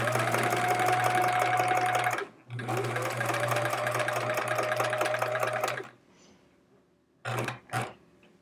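A sewing machine stitches quilt fabric for a chevron scrap quilt with a close, steady whir. It pauses briefly once, runs again, then stops, and two short bursts follow.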